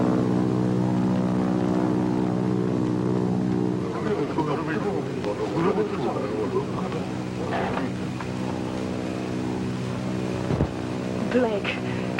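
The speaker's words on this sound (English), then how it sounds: "Might be Army planes." Propeller aircraft drone overhead in a 1947 adventure film, a steady loud engine roar that runs the whole time, with other film sounds and brief noises mixed in.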